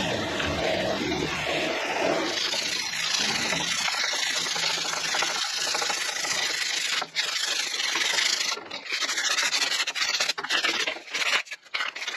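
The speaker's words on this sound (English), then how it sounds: "we gotta sand down these ridges because it's got some pretty solid ridges on it" Sanding the ridges on a cane push pole for a flats skiff, a continuous dense abrasive rubbing that stays loud and steady, then breaks into short gaps and strokes toward the end, close up with no speech.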